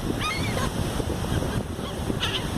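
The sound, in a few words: seagulls calling while being fed on the beach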